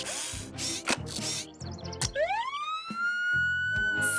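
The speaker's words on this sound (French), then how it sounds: "C'est comme ça qu'une sirène doit sonner." A fire truck siren in a cartoon garage, played through a keyboard, rises in a bright sweeping wail after bursts of clattering mechanical noises and ratchet-like clicks, loud and close.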